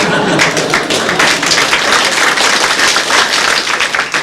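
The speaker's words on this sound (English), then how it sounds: "If you're all going to applaud individually, we'd be here all night" Audience applause at a live comedy show, a steady, loud wash of many hands clapping continuously without a break.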